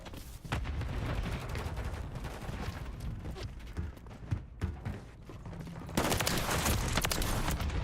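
Modern Warfare III multiplayer gunfire, dense volleys of close rifle shots and rapid bursts, intensifying into a loud sustained barrage near the end.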